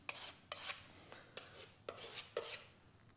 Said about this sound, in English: to fill all the nail holes, I'm just using a shrink-free spackling